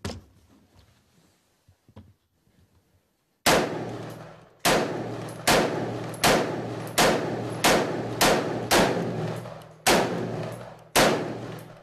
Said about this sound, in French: Le chargeur de 30 balles est vidé en quelques secondes.